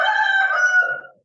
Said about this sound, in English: There are chickens somewhere.